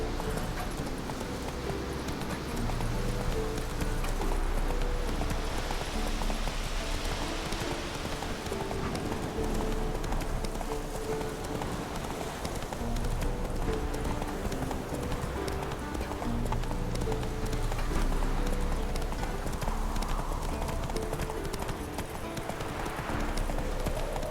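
Roach, the horse in The Witcher 3, gallops with steady rhythmic hoofbeats under ambient game sound and occasional movement noise throughout, with no talk over it.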